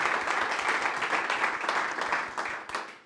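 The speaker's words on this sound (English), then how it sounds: "So a big round of applause to our speakers for today." Crowd at a Kubernetes and cloud native meetup in Berlin claps for the speakers, a steady burst of applause that thins and fades toward the end.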